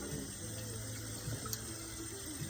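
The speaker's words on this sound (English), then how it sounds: "I am using lukewarm temperature water." Lukewarm tap water runs steadily from a faucet during a hair wash, a continuous close splashing hiss with no voices.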